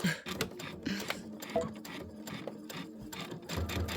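A domestic sewing machine runs in short bursts of stitching through fabric, close and clear, with brief pauses between runs while finishing an embroidered Christmas project.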